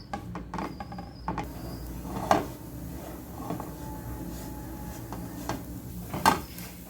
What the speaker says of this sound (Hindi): और पूरा टाइम आपने आहिस्ता आहिस्ता चम्मच चलाते रहना है।